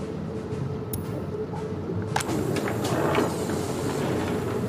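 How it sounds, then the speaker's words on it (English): Coal train pulling in within the city-building game Workers & Resources: Soviet Republic, a steady low rumble with faint metallic squeals and clanks, moderately loud and continuous with no speech. "That's a coal train coming in."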